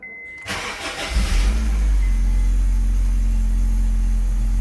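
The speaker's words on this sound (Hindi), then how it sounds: "हमारी गाड़ी स्टार्ट हो चुकी है।" A car engine cranks briefly and catches, then settles into a loud, steady idle hum that holds to the end.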